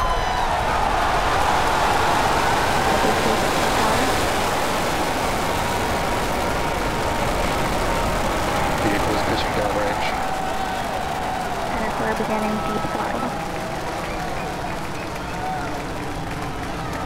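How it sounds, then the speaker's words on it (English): Falcon Heavy rocket engines igniting at lift-off, a dense, steady roar that fills the whole clip at high level and eases only slightly toward the end, with commentary voices under it. "Ignition, lift off."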